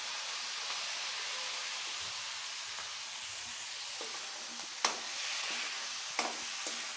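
Chicken feet sauté in a pan with fish sauce and pepper, a steady broad sizzle running throughout with a couple of sharp clicks or spatters near the end, no voices.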